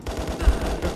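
Gunfire in the VR shooter Contractors: a burst of low, thumping shots at an even rhythm through the second, moderately loud and close, with no talk over it.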